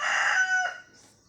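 A rooster crows once, the cry heard mostly as its fading tail, clear and moderately close before trailing off into quiet.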